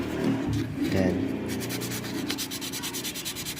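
Steady fine-grit sanding with 1000-grit sandpaper on scratched matte black motorcycle fairings, a soft continuous rubbing hiss with light back-and-forth strokes, close up and unbroken throughout.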